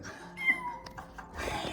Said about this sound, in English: I've returned with a little kitten